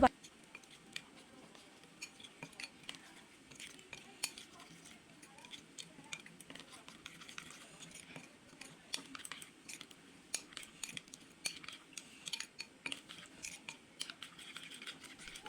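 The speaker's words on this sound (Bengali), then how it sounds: "এখন আমি এই মশলাটাকে ভালো করে একটু মিক্স করে নেব চামচের সাহায্যে" A metal spoon mixes spice powders, including garam masala, in a bowl, making quiet, irregular clicks and taps against the side throughout.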